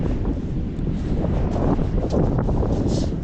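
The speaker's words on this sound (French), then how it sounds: "j'espère que vous m'entendez avec le vent." Outdoor wind buffets the microphone in a continuous loud low rumble with gusty swells, and no voice stands out over it.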